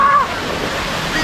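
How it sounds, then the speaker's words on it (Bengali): Rushing water of Turga waterfall near Ayodhya, Purulia, a steady broadband roar with wind-like hiss, close by and continuous for the whole moment, with a faint voice briefly at the start. "তুর্গা জলপ্রপাত, এর উপর থেকে জল আসছে"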